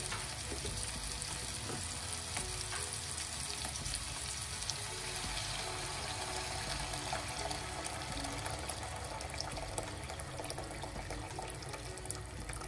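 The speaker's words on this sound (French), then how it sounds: "Donc là je peux ajouter de l'eau chaude. Donc j'ai besoin de couvrir en fait ma viande" Hot water poured into a pot of sizzling meat for rice kabsa gives a steady, dense hiss of sizzling and rushing liquid that stays constant throughout, close and unbroken, with no voices.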